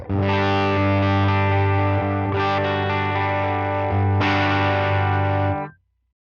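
A Line 6 Helix electric guitar tone with tilt EQ rings out as a loud, distorted, sustained chord, struck again twice with fresh attacks before being cut off abruptly, with no voices.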